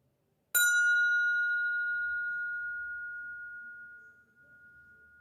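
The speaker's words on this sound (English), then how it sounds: "think what color comes into your mind when I ring this bell" A single clear bell strike rings out once and slowly fades over several seconds in a quiet room.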